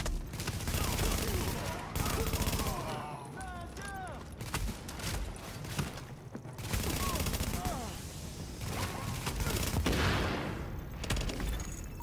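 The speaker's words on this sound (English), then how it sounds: "The escort party's taking heavy fire from the roof." Bursts of automatic gunfire from a rooftop gunner at the Madison Field Hospital in The Division crackle in rapid volleys, with shouted voices, impacts and shattering debris mixed among the loud shots.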